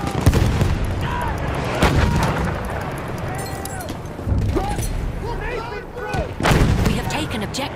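A grenade explosion and gunfire rip through a Battlefield 1 battle on the British Empire side at Achi Baba, with repeated heavy blasts and shots, loud and close, over a constant din of combat and shouting voices.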